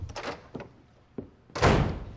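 Door opening as someone walks in unannounced during a TV scene, a few soft thumps and a clunk followed by a louder whooshing rush, close and brief.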